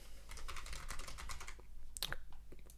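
Rapid keystrokes on a computer keyboard as a web address is typed, a steady run of close, crisp taps ending in a few sharper clicks.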